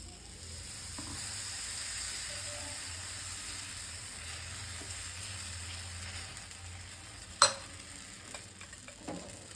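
Potato dosa batter sizzles on a hot pan with a steady, even hiss, broken by a single metallic clink and a few faint scrapes near the end.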